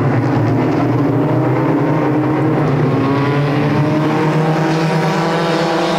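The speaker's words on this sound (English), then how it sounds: "Back green flag racing with the mini stock." Mini stock race cars roaring around Sunset Speedway under green flag racing, a loud continuous engine drone with rising and falling revs as the pack sweeps past, up close with no voices.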